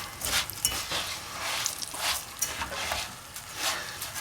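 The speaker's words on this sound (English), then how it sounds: "you gotta keep it stirring, because what we're doing is we're browning the rice, getting a nice brown color on it" Rice being stirred and browned in a hot pan for Mexican red rice, with a soft continuous sizzle broken by repeated scraping sweeps of the spoon, close and fairly quiet, with no talk.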